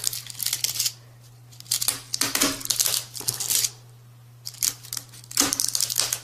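A rattlesnake's dry rattle being cut and torn in half, heard as close crisp bursts of crinkling, snipping and tearing in several separate spells, with a steady low hum running beneath.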